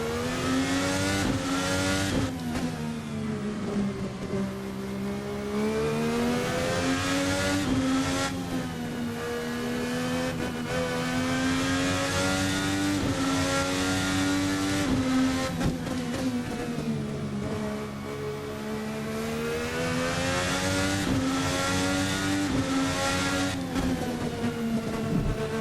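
Race car engine in the VRC Formula NA 2018 racing simulator, revving up and down continuously through gear changes for the whole stretch, loud and steady, with tire noise and no talk.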